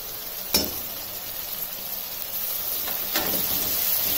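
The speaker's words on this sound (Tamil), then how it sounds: "இது நல்லா வதங்கிட்டு இருக்கு." Onions, ginger and garlic sizzle in a pan while cooking for mushroom pepper masala, a steady close frying hiss with two brief louder bursts as the mixture is stirred.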